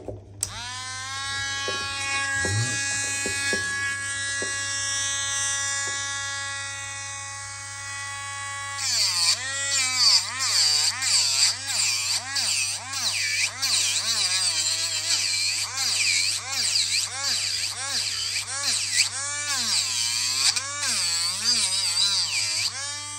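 A power tool carves an owl sculpture from resinous olive wood: a high whirring motor runs steadily at first, then bites into the wood with rapid wavering pitch sweeps and gritty grinding, loud and close throughout.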